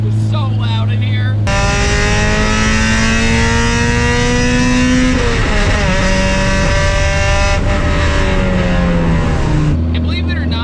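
Inside a Mazda Miata with a swapped Acura K24 engine, the engine revs loudly while driving. It climbs through two long pulls with brief shift breaks, close and droning, and a voice speaks over it.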